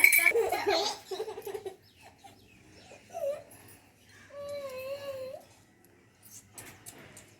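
A tiny pet puppy at home gives a few faint, high whimpers and whines in the middle, with soft human voices and giggles nearby at the start.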